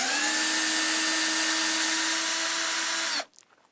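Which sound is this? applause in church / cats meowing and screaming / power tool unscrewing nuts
power tool unscrewing nuts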